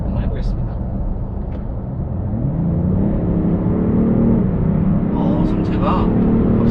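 BMW X5 M50d (G05) diesel SUV at full throttle: a loud, steady engine roar heard from inside the cabin that climbs in pitch as the vehicle accelerates, with faint voices in the background.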